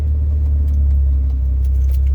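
Keys on a ring jiggling in a worn ignition key cylinder of a 1998 Jeep Cherokee XJ, a close light metallic rattle over a steady low engine rumble.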